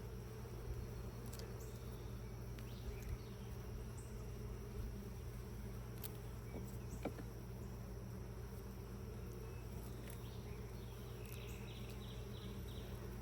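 Honeybees swarm around an open hive on a farm during an inspection, their buzzing a steady, close hum, with a few individual insects flying past nearer the ear.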